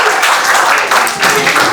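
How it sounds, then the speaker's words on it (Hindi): Parents and guests at a school event in Raipur clap for young pupils coming forward, a loud, close, sustained round of applause that dips briefly before swelling again. "ताली बजाओ"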